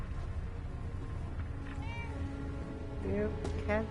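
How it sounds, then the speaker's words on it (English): A cat in the video game Fallout 4 meows a few times, short faint mews near the end over a steady game background hum, with a voice in the mix. "Ooh, kitty."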